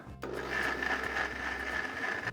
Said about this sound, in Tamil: இதை நம்ம எவ்வளோ நைஸாக அரைக்க முடியுமோ அந்த அளவுக்கு அரைச்சிக்கலாம்